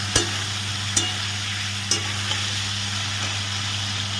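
Cut vegetables stir-fry in a pan. A steady low sizzle and hum runs throughout, broken by a few sharp knocks of a utensil spaced about a second apart.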